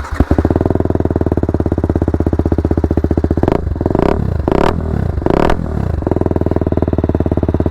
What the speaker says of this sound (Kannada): ಇದರಲ್ಲಿರೋ ಎಕ್ಸಾಸ್ಟ್ ನೋಟ್ ತೋರಿಸ್ತೀನಿ.